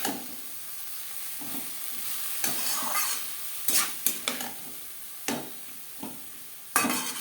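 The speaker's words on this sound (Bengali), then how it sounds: "পেঁয়াজের সাথে থোর বেশ ভালো করে মিক্স করে দেবো।" Banana stem and onions stirred in a frying pan, with repeated scraping strokes of a spatula against the pan over a soft continuous sizzle.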